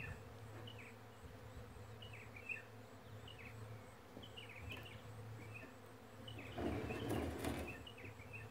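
Honeybees buzzing around a wine barrel holding natural combs, a steady close drone of many insects with a louder rush of wingbeats near the end; no speech.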